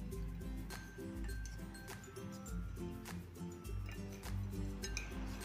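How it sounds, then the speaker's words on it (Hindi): A spoon mixes a dough filling with mango powder and coriander leaves in a bowl, giving repeated close clinks and soft scraping in an uneven rhythm. "अब हम इसको अच्छे से मिक्स कर देंगे ऐसे चम्मच से।"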